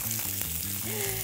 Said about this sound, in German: dann schmeißen wir die Würste und Zwiebeln rein. Pfanne ist sehr heiß.